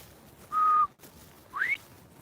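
A person whistles an imitation of a male bobwhite quail call: a steady flat whistled note followed by a short rising slurred note, clear and close against quiet background.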